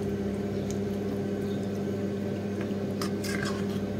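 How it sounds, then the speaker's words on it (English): Grated carrot being stirred with brown sugar in a pan for carrot halwa, giving a steady soft wet squishing and scraping over a constant cooking hum, with a few sharper scrapes near the end. "So mix the carrot along with the sugar."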